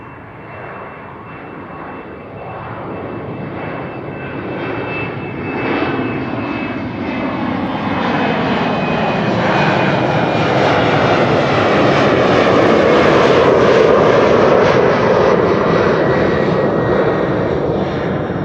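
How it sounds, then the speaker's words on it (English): A Delta Airbus A350 jet arrives at Amsterdam Schiphol, its engine roar swelling steadily from a distant hum into a loud, broad rumble with a thin whine riding on top, then holding close and heavy. "And another Delta A350 is following."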